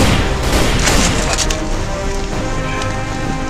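Gunfire in a tense standoff, with dense, continuous cracking and booming bursts filling the clip at steady loudness, like a close volley of shots with a rattling, rain-like texture.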